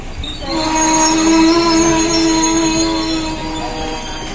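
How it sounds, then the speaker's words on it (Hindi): A passenger train pulls into platform 6 at Bikaner Junction, heard from on board as a loud, sustained metallic wheel squeal rings over the steady rumble of the cars for several seconds, with no talk. "हमारी गाड़ी बीकानेर के प्लेटफॉर्म नंबर 6 पर आ चुकी है"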